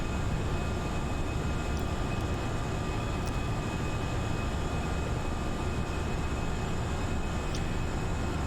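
In a flight simulator game, an airplane takes off: a steady, even roar of engine and air noise holds throughout, with a few faint clicks and no voices.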